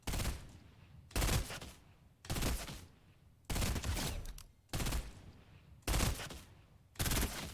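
A burst rifle fires in Fortnite Chapter 2, six evenly spaced, loud, close bursts of rapid shots, each followed by a short pause, with no talk.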